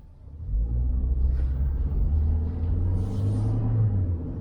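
A small 1.2 litre car drives along with a low, steady engine rumble heard from inside, the pitch dipping and rising as it changes gears, with no talking.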